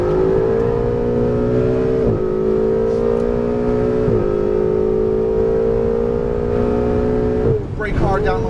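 A Ferrari 488 GTB on a Las Vegas track pulls hard through the gears, its loud in-car engine note rising steadily and dipping briefly at each quick upshift, with an instructor talking over it.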